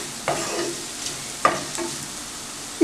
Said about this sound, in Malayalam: ഇതിലേക്ക് നമുക്ക് കുറച്ച് ഉപ്പ് കൂടി ചേർത്ത് കൊടുത്ത് നന്നായിട്ടങ്ങ് ഇളക്കി കൊടുക്കാം.